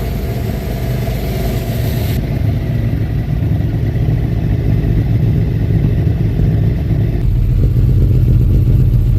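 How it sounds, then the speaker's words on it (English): A golf cart engine converted to Fuel Tech fuel injection, with no idle control, idles with a loud, steady, close-up chugging putter that runs unbroken throughout. "And it's running, idling even."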